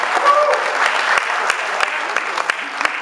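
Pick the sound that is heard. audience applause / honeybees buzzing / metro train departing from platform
audience applause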